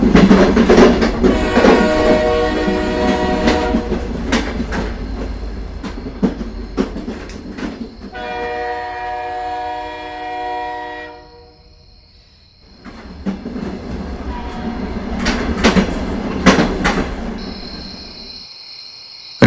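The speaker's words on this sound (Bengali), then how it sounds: "রাত 10:30 নাগাদ ট্রেন হরিপালে পৌঁছালো।" A night train runs along the rails toward Haripal, with loud rhythmic clattering of wheels over track joints, a stretch of high whining tones midway, then the clatter returns before fading out.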